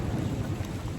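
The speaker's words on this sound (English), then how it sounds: "Pretty good thunderstorm going on." Thunder rumbles through a thunderstorm on a hiking trail near Hot Springs, a continuous low, dense roar filling the whole stretch at steady loudness, with rain noise mixed in and no talking.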